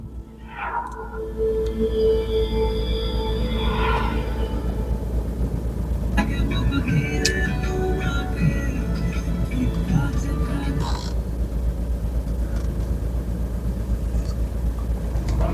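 A 2016 Mahindra XUV500 W10 engine idles just after starting, a steady low rumble close by, while people talk over it.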